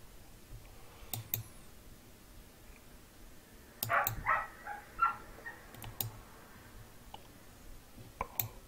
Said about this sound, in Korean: 왜 이렇게 개가 짖죠?